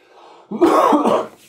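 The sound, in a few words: cough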